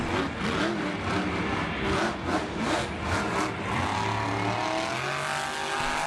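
The Hot Wheels monster truck revs hard in a Monster Jam arena in Jacksonville, its engine roaring and surging as it builds speed toward a ramp, loud and continuous with rising pitch, amid arena ambience.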